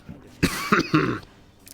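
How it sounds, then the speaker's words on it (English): A short burst of three harsh, close coughs in quick succession, then quiet. "I apologize for my coughing."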